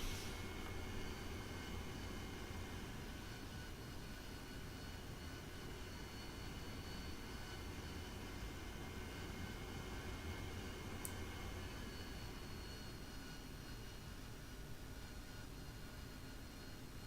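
An AV-8B Harrier jet taxiing to parking in the DCS flight simulator game, heard as a steady, loud broadband engine roar with a high whine that holds evenly throughout, with no talk.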